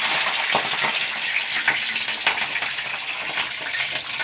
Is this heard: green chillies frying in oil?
yes